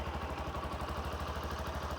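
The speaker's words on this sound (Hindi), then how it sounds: "आइडियल कंडीशन पर इंजन साउंड सुनिए," A 100cc commuter motorcycle engine idles close by with a steady, rapid low thumping beat and a faint mechanical clatter.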